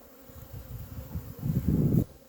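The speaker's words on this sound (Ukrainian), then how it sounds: "пішли на обліт в день влюблених. Пасіка загуділа." Honeybees on a cleansing flight buzz around an apiary in Dnipropetrovsk Oblast, Ukraine, in mid-February, a low steady hum that swells louder toward the end before dropping back, with no talk.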